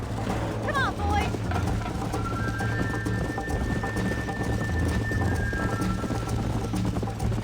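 Horse hooves gallop in a steady clip-clop rhythm during a race in the video game Red Dead Redemption, under a rumbling bed of game sound, with a character's voice speaking over it.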